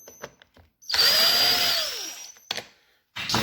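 A power driver spins out screws from a Toyota power seat, giving a loud whirring burst of about a second, followed by a short second whir and brief clicks of handling.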